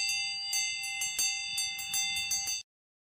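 A bell is struck repeatedly in quick, uneven succession, about a dozen bright ringing hits that blend into each other, then stop abruptly into silence.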